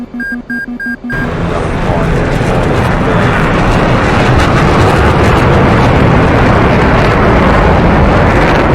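An F/A-18C fighter jet at an air show, flying low and pushed hard through manoeuvres with flares, gives a loud, sustained roar that swells in after a few short tones and fills the rest of the clip.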